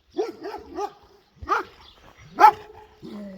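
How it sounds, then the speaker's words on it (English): A small dog on the Camino trail in Spain barks in several short, close yaps: three quick ones, then two more spaced barks and a final whine-like note. "There's a tiny dog following."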